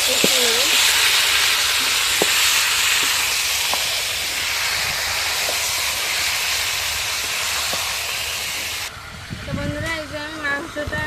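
Meat tossed into a well-cooked spice masala with released oil gives a loud, continuous sizzle and hiss, with occasional spoon knocks, then quiets as a voice speaks over the final seconds.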